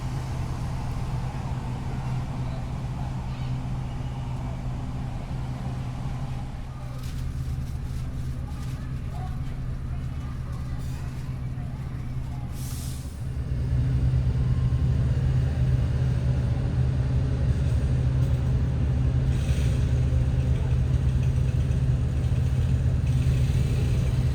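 A heavy ALS Super E intercity bus engine rumbles steadily at departure from Medan to Padang, rising in strength partway through as the bus pulls away, with a low droning roar throughout.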